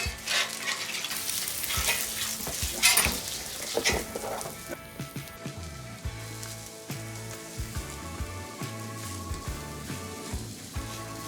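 Hash browns are laid down on a griddle slick with grease, oil and butter, and a bright crackling sizzle rises at first, then settles into quieter, uneven frying with occasional taps.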